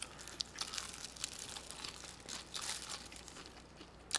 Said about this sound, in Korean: 비닐장갑 소리가 너무 큰가요?